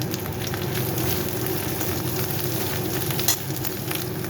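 Garlic with a pinch of salt frying in a pan for a coconut-free prawn malai curry, a loud, close, continuous crackling sizzle with one brief sharper pop near the end, no voices.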